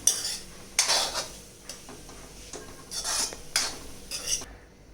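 Spoon scraping and clinking in a pan while stirring paneer sizzler rice with spring onion, a few distinct metallic scrapes and knocks close by with quiet pauses between, no voices.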